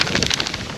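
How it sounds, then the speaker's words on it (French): Gusty afternoon wind sweeping across a canyon rim in Peru, a broad steady rush buffeting the microphone throughout, close and loud with no voices. "il y a du vent cet après-midi"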